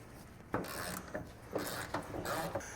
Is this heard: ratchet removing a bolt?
yes